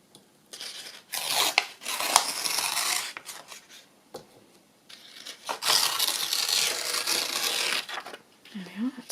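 Scissors snip through paper for a handmade flip-out folio, coming in several bursts of crisp rasping cuts with short pauses between them, close to the listener.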